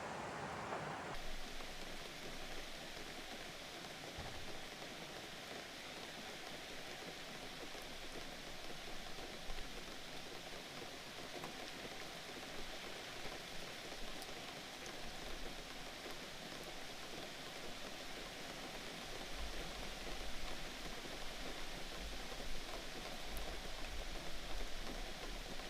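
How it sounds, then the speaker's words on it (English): Rain falling on an off-grid tiny house, a steady, dense hiss of drops on the roof and surroundings, constant and fairly soft for the whole stretch with no voices. "It's raining"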